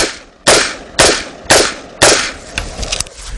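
M16 rifle firing a string of five sharp, loud shots at a steady pace about half a second apart, each with a short ringing tail, followed by fainter clattering and mechanical noise.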